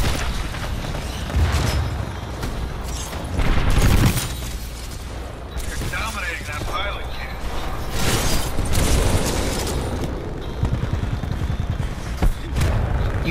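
Gunfire and explosions from the video game Titanfall crackle in loud, dense volleys with heavy booms and mechanical clanks, while players talk over the battle.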